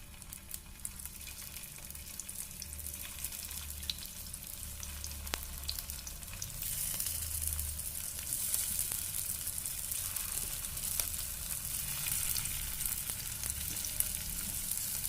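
Corn tikki patties fry steadily in hot oil in a home kitchen pan, a continuous close sizzle that grows louder and denser about halfway through, with no talking.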